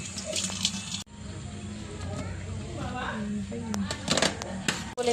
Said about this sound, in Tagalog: Hugasan muna natin ang ating talakitok.